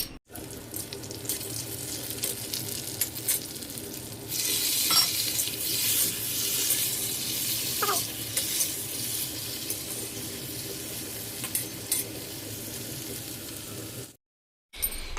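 Potatoes and onions fry in a pan at home, producing a dense, steady sizzle with occasional stirring clinks, close and continuous, ending in a brief silence before the frying resumes.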